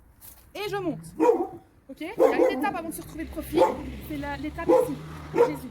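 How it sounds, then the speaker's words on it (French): A dog barks repeatedly indoors during a dance tutorial, several loud barks at irregular intervals mixed in with someone talking and counting. "Désolé pour le chien."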